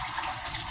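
Filtered water pours from a Brita filter pitcher into a pot of pinto beans in a steady, close splashing stream, brief and bright with no talking.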